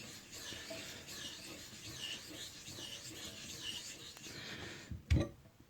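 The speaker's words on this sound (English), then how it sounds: "So this will be the finish for this knife demonstration, sharpening video" Kitchen knife drawn lightly across a wet whetstone with slurry, soft steady scraping strokes, quiet and close, ending with a brief knock.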